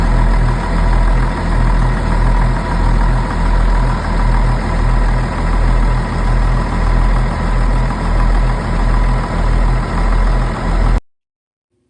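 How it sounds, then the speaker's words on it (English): The engines of a 1987 DeFever 44 boat run in a steady, loud drone with a low, pulsing throb, then cut off abruptly near the end. "This is why good running engines are so important."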